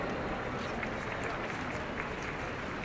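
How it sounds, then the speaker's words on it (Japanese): An audience at the Tokyo International Projection Mapping Awards at Tokyo Big Sight applauds a team being called up. The clapping is continuous and moderately loud throughout the short stretch, with faint crowd murmur underneath. "大きな拍手をお送りください。"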